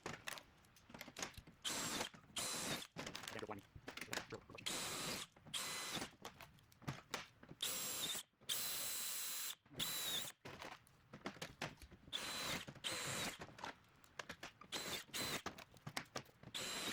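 A power drill bores a row of holes through the metal B pillar of a Humvee during a fixed top install, in repeated loud, close bursts separated by brief pauses.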